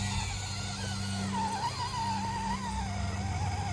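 A Hobby Plus CR-18P T-Hunter V3 brushless 1/18 mini crawler climbing a steep, loose, grainy dirt route, its motor whining steadily with a wavering pitch as it strains, close by and with no talk.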